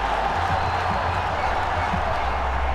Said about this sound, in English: Just listen to the cheer.